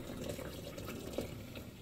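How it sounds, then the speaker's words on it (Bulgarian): Boiling water poured from a kettle over millet in a bowl, a steady close splashing stream of liquid running without pause, no talk over it. "С кипящата вода заливате просото"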